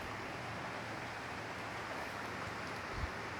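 Rain falls steadily near a hut by a rice field, a soft even hiss that stays faint and constant throughout, with a small low thump near the end.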